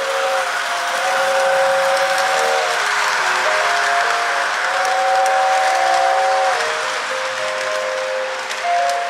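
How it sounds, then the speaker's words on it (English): A toy holiday train set running around its track, a steady mechanical whir overlaid with sustained whistle-like tones that hold and shift pitch, close and continuous for several seconds. "Look at the train coming."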